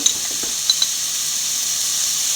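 Curry leaves sizzle in hot oil for a carrot and bitter gourd pickle, a steady, even hiss throughout with a few soft crackles near the start.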